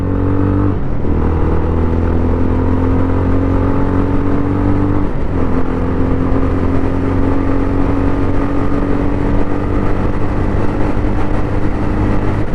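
A 2025 Jawa 42 FJ motorcycle accelerates while being ridden, its engine note rising steadily through the gears with brief dips at the shifts, loud and close with wind noise and no talk.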